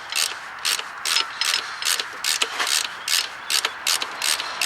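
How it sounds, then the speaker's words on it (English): Ratchet wrench turning an E8 Torx socket on a seized steel alternator bolt threaded into an alloy housing, repeated quick bursts of clicking in a steady rhythm, close and clear, no talk. "it's an E8 torque that I need to get this bolt out"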